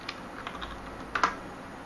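A handful of scattered, quiet computer-keyboard keystrokes from typing during a Minix 1.7.5 install in VirtualBox, with a short cluster of louder taps near the end and no talking.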